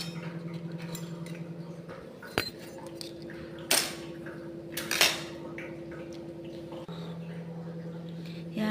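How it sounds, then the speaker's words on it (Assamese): Two metal spoons clink and tap against each other and nearby dishes in a home kitchen. Sparse, sharp chinks come a few seconds apart over a steady low hum. "এয়া মই চামুচ দুখন লৈ লৈছোঁ।"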